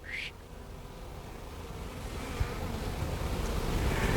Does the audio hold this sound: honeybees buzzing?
yes